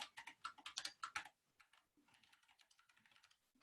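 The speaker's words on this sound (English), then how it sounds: "Is my keyboard super loud?" Keys clack on a computer keyboard in a rapid burst of loud clicks that then slows into softer, sparser taps, close to the microphone with no talking.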